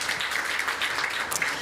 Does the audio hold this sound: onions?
no